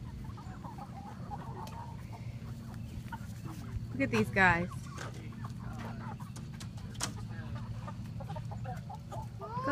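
Free-ranging chickens cluck and call around a fenced backyard chicken yard, with one louder squawk standing out midway, while a person talks softly nearby over the steady flock murmur.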